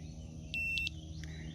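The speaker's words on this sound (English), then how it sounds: "Now it beeped" An HQ01 dog training collar receiver entering pairing mode gives a short electronic beep, with a couple of quick tonal chirps after it, close and clear over a quiet room hiss.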